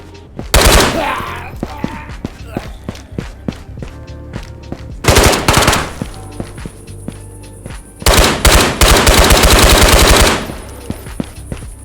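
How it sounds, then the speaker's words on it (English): Gunfire in the VR game Ghosts of Tabor: loud bursts of rapid automatic fire in three volleys, with scattered single shots and clicks between them. "I can already hear gunshots going off."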